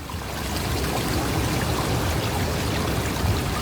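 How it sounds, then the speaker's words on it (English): Cold, shin-high water rushes swiftly in the Still Ridge prologue, a steady broadband stream that holds loud and constant from start to finish with no voice over it. "Cold shin high water. It's flowing surprisingly swiftly."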